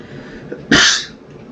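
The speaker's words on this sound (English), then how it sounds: "I hate sneezing while I'm making a video." One sharp, loud human sneeze bursts out in the middle over quiet room noise, breathy and bright, then fades quickly back to silence.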